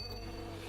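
A brief, steady drone of bees buzzing in the video game Amygdala, an even insect hum sitting over a low background tone.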